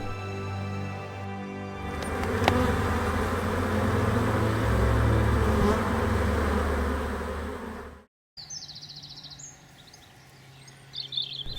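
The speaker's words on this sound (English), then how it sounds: "There are just over 100 beehives here." Honey bees hum steadily around more than a hundred beehives on a bee farm in Kent, a dense continuous drone heard close up, broken by a short gap before a thinner, quieter stretch of buzzing.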